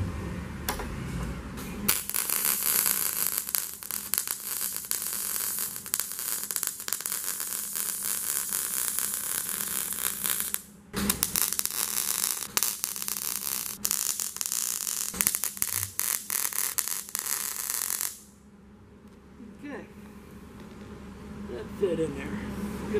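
Tack welding on a car body panel of a 1957 Ford Fairlane hard top convertible: a loud, close, crackling buzz that runs in long bursts with brief breaks, then stops near the end.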